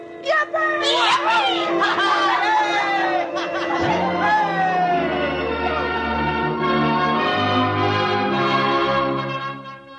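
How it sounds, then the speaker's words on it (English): Bells ring out steadily amid a busy wash of sound, with crowd chatter and excited voices layered over the continuous pealing. "The bells of the Baptist, the Congregationalist, and the Roman Catholic Church were ringing."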